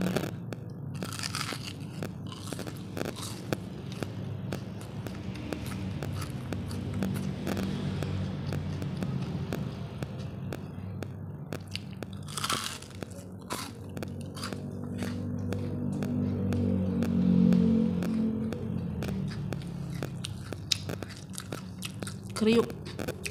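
Raw rice from a bottle mixed with tempeh is chewed close to the mic in rapid crunchy bites, with wet squishing between the crunches and brief soft voices now and then.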